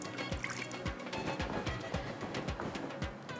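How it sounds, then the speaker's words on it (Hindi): Water poured or trickled into a pan of prawns before boiling, a soft uneven splashing with a few brief dribbles and drips, fairly quiet, no talk over it. "इसमें हम शामिल कर देते हैं थोड़ा सा पानी"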